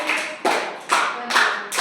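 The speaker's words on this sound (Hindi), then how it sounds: "ताली बजाओ" Children in a classroom clap their hands together in a group, giving four or five short bursts of clapping in a loose rhythm, close and fairly loud, with no talking.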